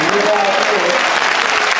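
An audience at a Civic Center speech in New Delhi gives steady, loud applause that fills the whole moment, with a faint voice underneath.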